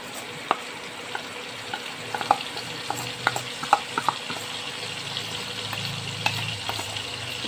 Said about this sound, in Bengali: আলুটা ভাজা হয়ে গেছে, এবার দিব আদা, ধনে, জিরে, কাঁচা লঙ্কা।